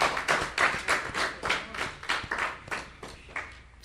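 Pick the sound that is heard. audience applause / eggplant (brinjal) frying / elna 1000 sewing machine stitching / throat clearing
audience applause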